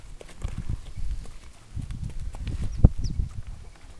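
A mare's hooves clip-clop in an uneven walking rhythm as she is led on foot during groundwork training, with moderately close, dull thuds, one sharper knock near the end and faint rustling in the background.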